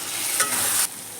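Onion and potato fry in oil with mint paste while being stirred, a close sizzle with a scraping stir that swells briefly, then the hiss drops to quieter frying near the end, no voices.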